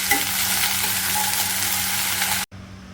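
Okra sizzles in hot oil in a wok while being stirred, a close, bright frying hiss that cuts off abruptly near the end.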